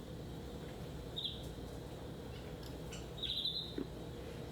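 A pet bird gives two short high chirps, the second a quick rapid trill, faint over a steady low room hum.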